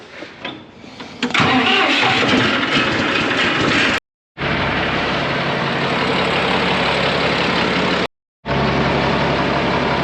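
A Farmall 706 tractor engine cranks and catches, then runs at a loud, steady idle, cutting out briefly twice before rumbling on.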